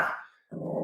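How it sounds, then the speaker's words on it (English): A dog barks at the arriving postman: one loud, close bark, a short gap, then a rougher growling bark. "I have a dog barking."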